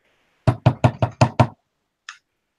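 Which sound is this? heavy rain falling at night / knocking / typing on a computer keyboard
knocking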